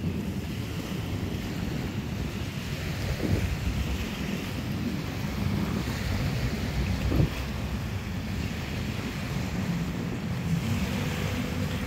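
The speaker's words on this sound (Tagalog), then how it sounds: "Bagamat napaka lakas ng hangin ngayon, subukan pa rin natin magpalipad." Strong wind roars steadily across the microphone at Manila Bay, mixed with the wash of surf, a continuous loud rumble with occasional gusty thumps.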